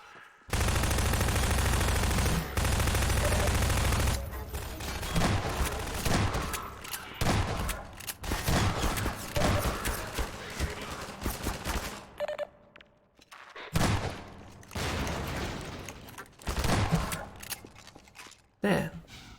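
Gunfire rattles in the Fallout video game: a long, loud automatic burst to start, then scattered shorter volleys and single shots with gaps between them.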